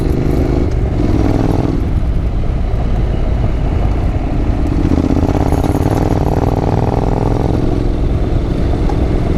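A Honda NC750X motorcycle climbs a steep ridge on loose gravel in Wollemi National Park, its engine droning loud and steady throughout with crunching, clattering tyre noise over the rough surface.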